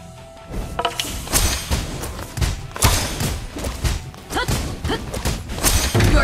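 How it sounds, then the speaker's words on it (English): A turret collapsing in the MOBA game Onmyoji Arena, a dense run of heavy thuds and crashing impacts layered over busy battle effects, loud and continuous throughout. "Your team has destroyed a turret."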